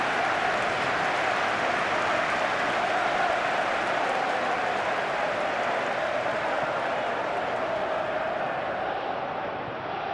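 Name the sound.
stadium crowd cheering in PES 21 football video game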